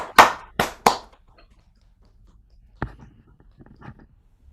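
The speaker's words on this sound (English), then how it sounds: "give a round of applause to our esteemed graduates" Graduates at a geography graduation ceremony held over a video call get three sharp, close handclaps in quick succession, followed by quiet and a few faint scattered taps and murmurs.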